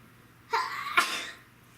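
A single close sneeze rings out during a Lego City garbage truck build, with a sharp inhaled onset followed by a bright explosive burst that fades quickly.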